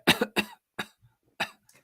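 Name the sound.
imitated cough over the phone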